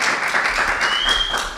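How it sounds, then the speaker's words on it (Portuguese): Studio audience applause greeting a podcast guest, a dense steady wash of clapping lasting under two seconds, with a faint tonal whistle rising near the end. "Uma salva de palmas para ele com muita energia, Flávio Borges!"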